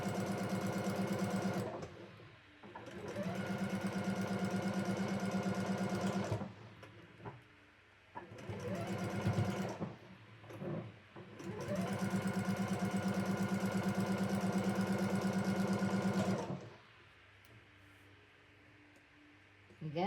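Sewing machine stitching the final seam of a quilt block, running in long steady bursts with brief pauses between, close and moderately loud, with a little talk in between.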